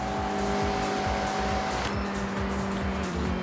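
Mazda MX-5 in the Forza Horizon 6 racing game, engine droning loudly and continuously as the car drives through corners, pitch shifting partway through, with tires squealing.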